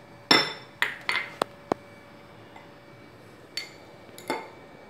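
A spoon mixes ingredients with ghee in a bowl during fireless cooking, giving a cluster of sharp metallic clinks and taps followed by a few sparser ones, close by and with no talking.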